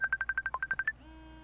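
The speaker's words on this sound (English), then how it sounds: "And I'm suddenly getting a phone call." Rapid series of about eleven electronic telephone keypad dial tones, evenly spaced and crisp, followed by a short steady line tone, heard alone during a magic show as a phone call comes in.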